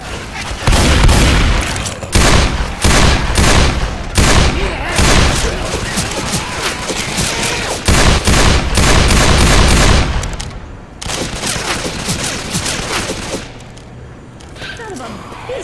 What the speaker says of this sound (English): Hey, sport, watch where you're shooting.